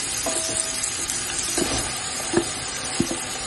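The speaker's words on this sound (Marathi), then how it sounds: "आता डायरेक्ट आपण खोबरं टाकायचं" Ground coconut added to mutton masala frying in a pan, a steady sizzle with scattered stirring clicks and scrapes, close and alone.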